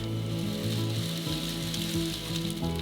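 Lavash frying in vegetable oil in a pan, a steady close sizzle and crackle holding at an even level, with a constant low hum underneath and no voices.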